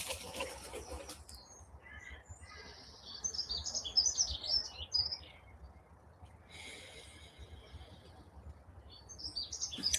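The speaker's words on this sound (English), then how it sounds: "Your attention might be drawn to the sounds around you, to the birds around me, maybe around you." Outdoor morning birdsong: scattered chirps and tweets from several birds at a moderate distance, rising and falling in bursts over a quiet background.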